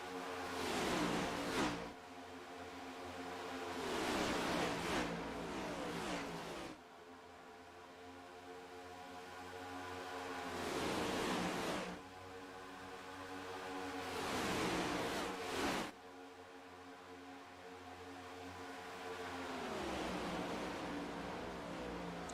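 Race cars roar past on the Atlanta 250 track in repeated waves, each pass swelling loud then cutting off sharply, with steady engine drone between passes and no talk.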